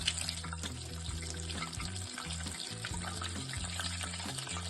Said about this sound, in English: drop these in one at a time and let them bathe in some hot oil